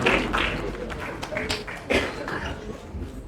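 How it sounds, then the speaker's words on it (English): Applause from an audience at the launch of the RPPL street racing league, a scattered burst of claps rising and falling over a few seconds, moderately close with some tapping texture. "So can we have a round of applause for RPPL"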